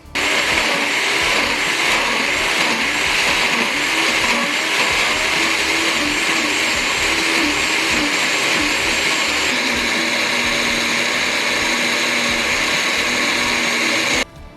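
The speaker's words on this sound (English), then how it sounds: "blend it up to get a nice sort of pesto pasty type feel" A blender runs continuously for about fourteen seconds, whirring loud and steady as it purees curry paste for a Durban-style chicken curry, then cuts off abruptly.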